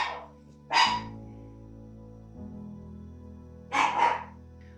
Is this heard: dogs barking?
yes